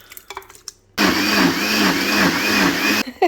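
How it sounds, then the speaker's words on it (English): A large blender whirs on abruptly, then runs loud and steady with a pulsing churn as it purees a green soup made from cottage garden vegetables, before cutting off with a few soft clatters around it. "then I'll put it into the larger blender thing that I have"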